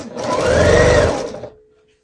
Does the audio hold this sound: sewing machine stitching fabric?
yes